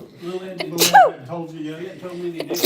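One sharp, sudden sneeze bursting out near the middle of a casual conversation, with people talking before and after it.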